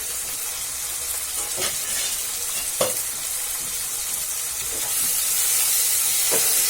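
Drumstick and potato curry with tomato fries and is stirred in a pan, a continuous close sizzle broken by a few sharp spatula scrapes and knocks, growing slightly louder toward the end.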